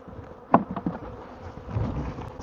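Honeybees buzz around drawn frames during a hive inspection, a soft, steady hum of wings close by, broken by a few sharp knocks against the wooden frames.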